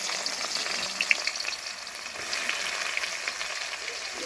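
Chopped onions fry in hot oil with chilli and whole bay leaves in a pan for a duck curry. The sizzle is a steady, moderate hiss with scattered light crackles, heard close and with no voices.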